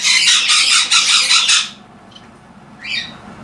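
Pet birds squawk loudly and harshly at close range for about a second and a half, then go quiet, with one shorter squawk near the end.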